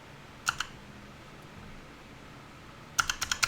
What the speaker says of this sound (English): You'll hear my keyboard.